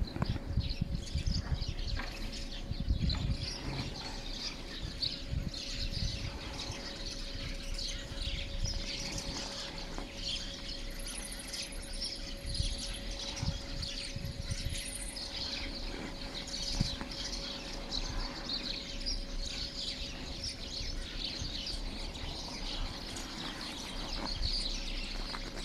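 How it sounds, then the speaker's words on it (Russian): Small birds chirp and twitter in a frosty evening park in Yelizovo, faint and scattered over steady background hum and low rumble, with no talk. "Мороз, а они щебечут. Видно, согреваются так."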